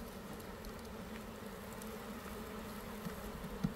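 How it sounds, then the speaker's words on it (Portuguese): Strong bee swarm at an apiary hive, a steady low drone of many wings holding level throughout, close and moderately loud, with a couple of faint knocks near the end. "Olha só o barulho aqui. É. Um enxame que tá forte também"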